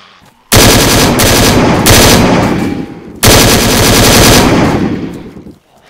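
Automatic gunfire from a gun in the video game DayZ, played in Balota: two long, loud, rapid bursts back to back, the second starting right as the first ends, with no talk over them.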